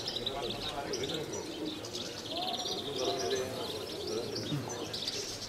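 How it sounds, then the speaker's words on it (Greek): Pigeons coo and chirp inside a loft of diving pigeons in Kozani, Greece, with soft overlapping calls and wing rustles close by, while a voice talks over them. "Εδώ μέσα είναι τα περιστέρια."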